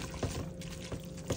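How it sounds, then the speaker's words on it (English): Starchy pasta water is poured briefly into creamy mushroom pasta with Parmigiano Reggiano, a short liquid splash with soft trickling and a few faint knocks. "Add in some pasta water and mix."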